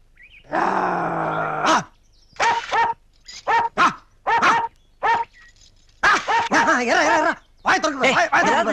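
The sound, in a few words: dog barking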